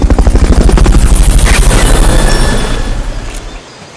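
A loud, pulsing helicopter rotor from the video game Metal Gear Solid Peace Walker HD thumps steadily, with heavy low rumble and rapid rhythmic chops that fade slightly toward the end.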